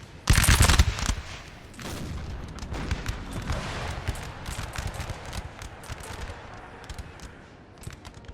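Musket fire from a Napoleonic Total War battle: a loud opening volley, then scattered, irregular crackling shots and distant pops spread over several seconds, with a muffled battlefield rumble underneath and no talking.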